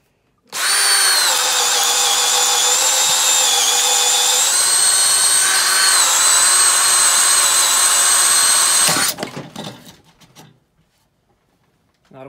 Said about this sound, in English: And now we'll do the same thing on speed one. So here's the non-brushless,